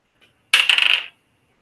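Dice rolled onto a hard surface, a short burst of rapid clattering rattles lasting about half a second after a tiny tap, close and crisp with no voices.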